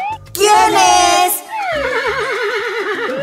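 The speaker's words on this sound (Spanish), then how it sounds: "¡Es el caballo percherón!" A Percheron horse neighs in a children's farm cartoon, giving a loud, shrill whinny followed by a second wavering, trilling call, close and clear.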